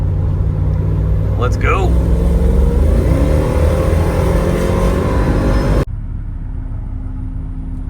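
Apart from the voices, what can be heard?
Mercedes V8 M113 car engine driving off and accelerating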